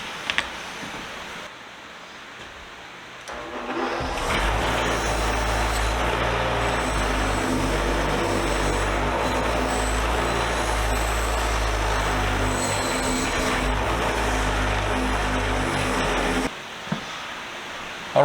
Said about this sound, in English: We're going to throw this on a wire wheel, get it cleaned up